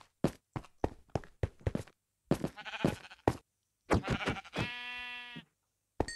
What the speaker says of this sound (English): So, oh, sheep.